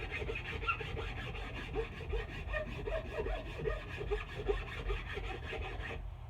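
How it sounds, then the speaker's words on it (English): A rasp smooths the transition on a wooden axe handle during re-hanging. Quick back-and-forth scraping strokes run continuously, fairly quiet and close, with no voices. "I'm just going to take my rasp, just take that, make that a nice smooth transition, not an abrupt one."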